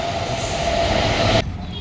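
A metro train passes close by near Pallavaram market in Chennai, making a loud, steady roaring rumble that drops off abruptly near the end.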